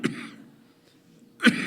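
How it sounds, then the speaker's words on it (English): Two short, rough coughs, one at the start and another near the end, separated by a quiet pause. "I have to apologize for my cough."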